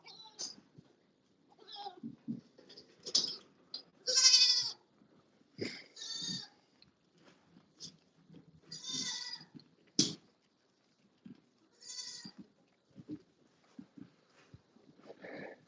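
Goats in a livestock pen give several loud, close bleats at irregular intervals, with people talking quietly in between.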